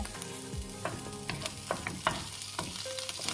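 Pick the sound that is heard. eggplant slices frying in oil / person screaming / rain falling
eggplant slices frying in oil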